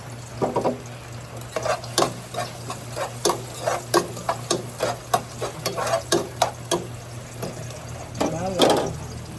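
Garlic frying in a pan for a sautéed chayote dish, with a low sizzle under repeated scraping and clinking strokes of a spatula stirring against the pan, close and fairly loud.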